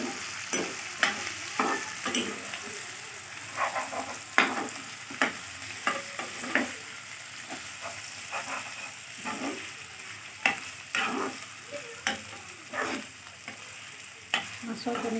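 Fish roe fries in a pan with onions, a steady sizzle beneath repeated scraping strokes of a spatula stirring at a fairly even rhythm, with no voices.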